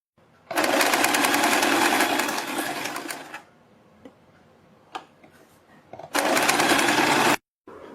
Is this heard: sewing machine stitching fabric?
yes